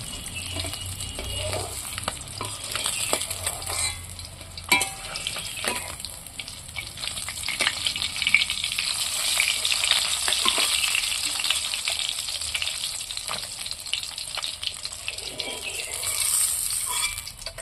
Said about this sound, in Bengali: মাছটা কিন্তু খুব কড়া করে আমি ভাজছি